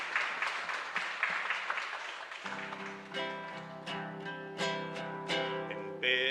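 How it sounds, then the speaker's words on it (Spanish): Applause from the congregation at a chapel Mass honoring Santa Elena, a burst of clapping that dies away as singing with instruments begins and carries on. "un fuerte aplauso para nuestra comunidad"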